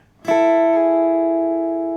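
A single acoustic guitar pull-off by the ring finger on two strings, ringing together with a clear bright attack, then sustaining and slowly fading with no voice.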